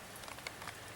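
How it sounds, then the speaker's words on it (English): Rain patters steadily on a rainy morning, a soft, even wash of drops, faint and continuous for about a second. "Look at the rain."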